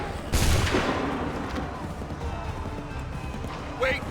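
Musket volley fired by a line of soldiers in Assassin's Creed 3 Remastered, a loud near crack-burst of overlapping shots that decays into ringing echo, followed by a later smaller report.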